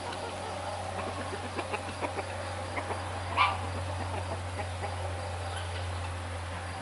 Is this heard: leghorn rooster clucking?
yes